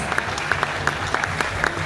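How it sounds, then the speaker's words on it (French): Applause from the audience at a French ambassadors' gala evening, a moderate crowd clapping steadily with a few sharper individual claps popping out above the rest. "Bon, on peut l'applaudir."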